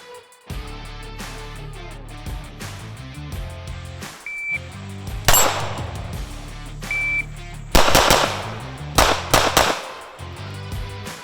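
Several sharp gunshots from a Laugo Arms Alien Remus pistol at a shooting range, irregularly spaced single reports, loud and close, with a couple of faint electronic beeps between them.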